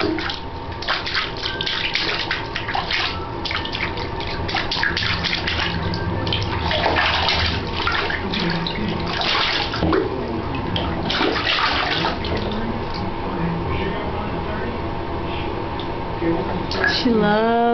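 A small child splashes water in a bathtub, with intermittent sloshes and splashes close by, while an adult talks over much of it.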